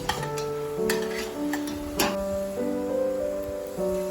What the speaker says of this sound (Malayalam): എല്ലാം കൂടെ ചേർത്ത് മീഡിയം ഫ്ലെയിമിലിട്ട് വഴറ്റിയെടുക്കാം